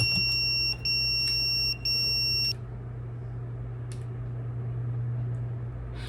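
A hospital pager beeps in a quick run of bright, steady electronic tones with two short breaks, close and fairly loud over a low room hum, then falls silent.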